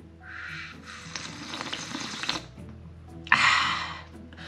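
A tap runs in uneven bursts: a soft splash, a longer hissing run of water, a brief pause, then a louder renewed stream toward the end.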